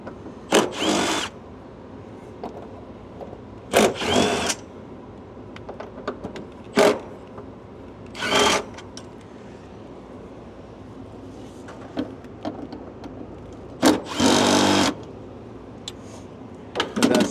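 Air conditioner compressor having its mounting bolts removed with a power drill or impact driver, heard as about six short separate bursts spread apart with quiet gaps between them.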